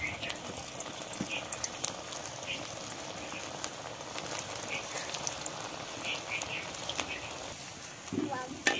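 Papaya pakoras frying in hot oil, a steady soft bubbling and crackling hiss that runs throughout at low volume, with a brief clatter near the end.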